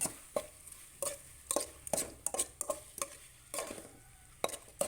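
A spatula scrapes and clanks repeatedly in a pan as chicken is stir-fried with curry paste for a chicken and pickled bamboo shoot curry, with sharp regular strikes over a soft sizzle.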